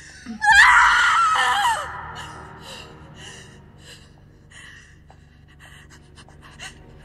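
Woman screaming in The Invisible Hours video game, one loud close gasping scream lasting about a second, then fading into faint breathy sounds and scattered small noises.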